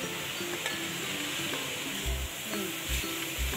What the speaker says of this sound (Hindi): सब्जियों को चिकन के साथ भूनेंगे अच्छी तरह